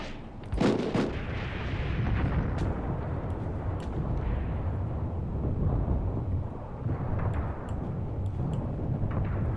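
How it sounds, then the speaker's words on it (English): Artillery shells burst in a World War II Eastern Front battle game, a dense, continuous rumble of heavy explosions with sharp blasts early on and further booms rolling through, loud and steady with no voices. "the enemy is now calling in artillery strikes on this location"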